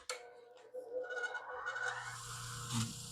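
The bevel of a steel hand-plane blade being ground to square it up, giving a quiet, continuous rasping rub that swells slightly toward the end.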